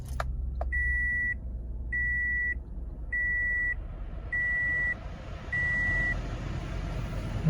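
A 2018 Toyota Sienna minivan starts up with a rumble, then five evenly spaced steady electronic chimes repeat under a low engine idle, the last two slightly softer.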